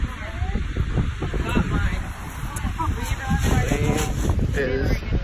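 Strong wind at a sunny beach buffets the microphone in heavy, uneven gusts, with rumbling low roar throughout and faint voices in the background.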